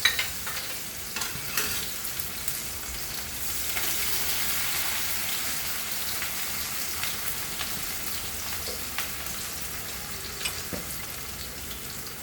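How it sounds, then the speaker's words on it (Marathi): Onion frying in a pan with mustard seeds and cumin, stirred steadily as a continuous sizzle with occasional scraping, close and fairly loud. "कांदा घालून घेऊ,"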